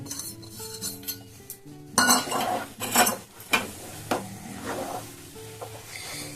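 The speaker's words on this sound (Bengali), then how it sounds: "এই বেসনটাকে পুরো আমি ভেজে নেব" Gram flour roasted in a pan for homemade laddu, with a metal spoon scraping and clinking against the pan in repeated strokes over a soft sizzle, close and fairly loud, no talking.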